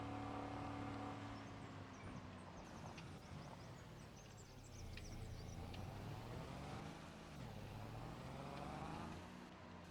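A vehicle engine hums and rises and falls in pitch as it drives along in a video game, a continuous, fairly quiet drone with faint clattering on top.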